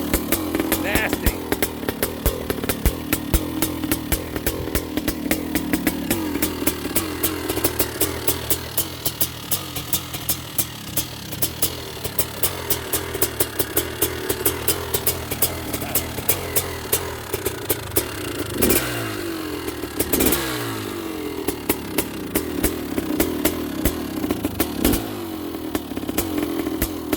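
A Honda CR500AF aluminum-frame motorcycle, started stone cold, idles and revs roughly while warming up, a loud continuous engine drone with blips of throttle and a brief rise near the end, people talking beneath it.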